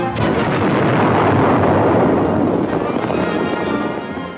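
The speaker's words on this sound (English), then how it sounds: "Hundred men perish when the magazines explode." Magazines of the British battleship Barham exploding after torpedoing, heard as a sustained, loud, roaring blast rumble that fills the clip and fades slightly at the end, in old wartime newsreel footage.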